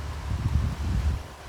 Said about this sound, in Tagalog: Hangin tayo sinulupad ang mga dahon